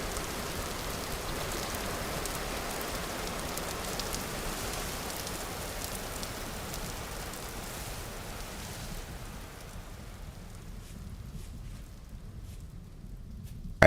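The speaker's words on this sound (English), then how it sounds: "How are the peaceful rain sounds doing for you?" Steady rain in the game Vintage Story, a continuous hiss of falling drops on surfaces, even and fairly loud, easing slightly toward the end.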